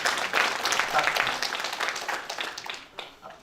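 A seated audience applauds a provincial official at a civic dialogue event. The clapping is fairly soft and tapers off over a few seconds.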